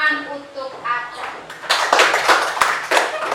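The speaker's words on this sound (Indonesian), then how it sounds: "Tepuk tangan untuk Aca." A school class claps for a student after a correct answer, a short burst of hand claps following a teacher's voice.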